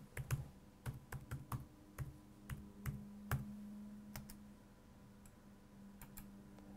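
Typing on a computer keyboard in a quiet room: a dozen or so crisp, irregular key clicks over a faint steady hum, trailing off into sparse taps.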